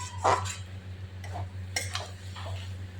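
A spoon stirs garam masala through cabbage and shrimp in a pan, giving a few scraping clinks against the metal over a low steady hum, close and moderately loud, with no talking.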